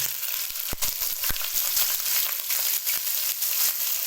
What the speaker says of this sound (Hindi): प्याज को हम थोड़ी देर के लिए फ्राई कर लेंगे।